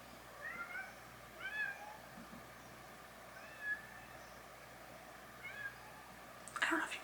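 A cat meows faintly a few times, short high calls spaced apart over a quiet room hum, ending with a brief louder rustle.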